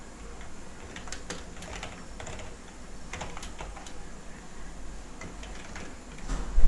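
Close, light keystrokes on a computer keyboard while writing PHP code, a busy, irregular patter of soft clicks over a faint steady hiss that grows louder at the very end.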